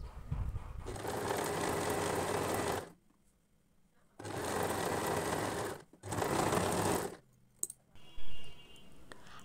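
A sewing machine stitches a folded edge on a baby dress in two long, loud bursts of rapid whirring, separated by short pauses, then a few clicks and a brief final sound.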